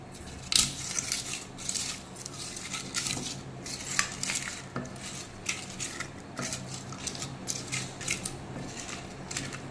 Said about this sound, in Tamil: ஆட் பண்ணி இதை நல்லா கிளறி விட்டுக்கலாம்